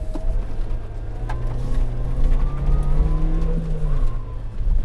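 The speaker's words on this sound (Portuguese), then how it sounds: "Conseguem ouvir a caixa, o zoar da caixa?" A 2019 Suzuki Jimny SZ5 under way, its engine droning with a rising and falling gearbox whine that climbs and fades over a few seconds, close and fairly loud with no talk.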